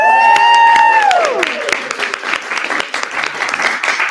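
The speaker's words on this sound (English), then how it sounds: "Round of applause." Audience applause fills a sales-recognition event, dense clapping that swells and holds steady under a fading musical sting, with a few cheers mixed in.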